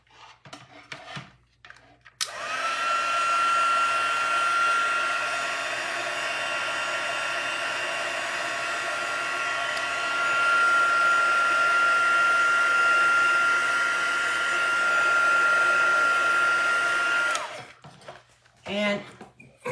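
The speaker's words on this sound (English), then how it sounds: "I'm gonna, again, throw our heat tool on here." A craft heat tool blows hot air over damp stamped ink, a loud, steady whirring hiss that runs for about fifteen seconds, with short bits of handling noise before and after it.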